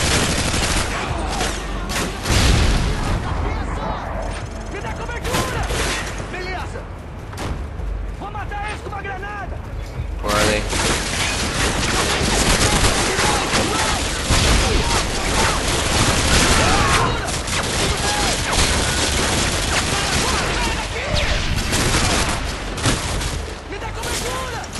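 Grenade explosions and gunfire crash through a Call of Duty Modern Warfare 2 firefight in the favela, dense and loud, with booms over a continuous barrage and a voice talking at times.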